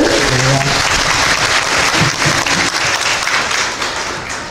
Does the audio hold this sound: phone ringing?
no